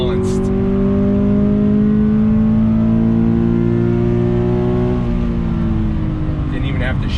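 A 2020 Toyota 86 Hakone Edition's engine pulls under steady throttle along a twisty road, a loud, sustained in-cabin drone with smoothly rising and falling pitch and a slight dip near the end.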